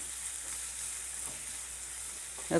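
Shallots with salt frying in a pan: a steady, even hiss of oil sizzling without a break, close and moderate, with a small clatter right at the end.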